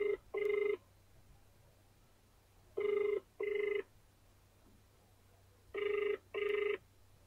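A telephone call to a client rings out as a ringback tone: three clear double-ring pairs at an even spacing, alone over a faint low background hum.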